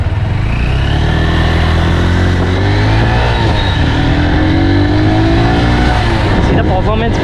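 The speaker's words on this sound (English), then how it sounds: "let's give a throttle and see. So now I'm in the first gear." Honda Hornet 2.0 BS6 motorcycle accelerating hard in first gear, the engine climbing in pitch as the revs build, loud and close, with wind noise and a voice speaking over it.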